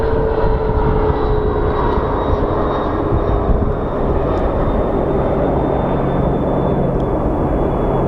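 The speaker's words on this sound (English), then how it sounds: "Oh, that's the CRJ 100 that's coming from Mexico." A CRJ 100 regional jet arriving from Mexico at Sky Harbor airport makes a steady, loud engine roar with a high whine throughout, continuous and close.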